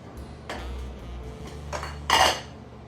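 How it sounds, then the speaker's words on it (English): Spoon scraping and clinking against a plate while white rice is plated, a few sharp metallic taps spread out, the last one louder, with a low hum underneath. "Gonna plate up my rice."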